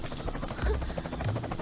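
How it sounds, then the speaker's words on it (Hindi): A helicopter in a dubbed South Indian action film gives a steady, fluttering rotor drone with pulsing blade chop, moderately loud and continuous with no talk. "वो देखो, हेलीकॉप्टर।"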